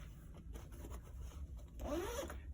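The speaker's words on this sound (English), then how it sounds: "when you unzip this, you have a big flat area down in here to fill with stuff also." A YKK zipper on a carry-on roller case is pulled open in one quick, close rasping stroke after a few quiet, faint handling noises.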